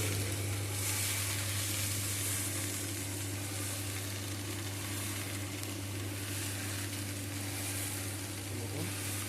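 Steady, continuous sizzling of chickpeas frying in a roaster machine, with a low mechanical hum running underneath throughout.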